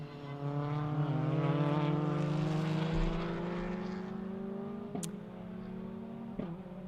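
Green Ferrari race car braking and cornering on a downhill off-camber left-hander at a karting complex, a loud sustained engine drone with sliding pitch as it decelerates, plus brief sharp transients near the end.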